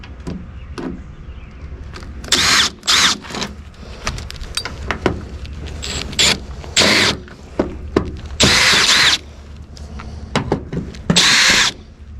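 Power drill backing out Phillips head screws from a taillight assembly on a 1995-2004 Toyota Tacoma, several short whirring bursts separated by pauses, close up with no speech.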